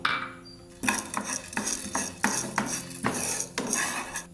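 Dry pepper being stirred in a hot pan for a sukku malli coffee spice mix, a series of close scraping and rattling sweeps of the spoon, about eight strokes in an even rhythm with no voices.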